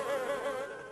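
Cartoon flies hum in a continuous, close, wavering buzz, alone with no voices.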